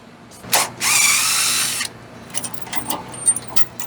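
Socket wrench and power tool working on a motorcycle chain, with a short clack followed by about a second of steady whirring buzz, then scattered light metallic clicks and rattles close by.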